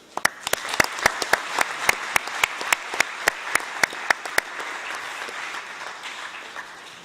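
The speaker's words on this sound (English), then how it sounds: "Please give them a round of applause." Audience applause for distinguished speakers at a high-level opening ceremony, with sharp individual claps standing out over a dense wash of clapping that gradually thins and softens toward the end.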